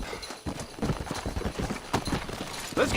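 Horse hooves clip-clop in a quick galloping rhythm in the Red Dead Redemption video game, close and fairly loud, with no speech over them.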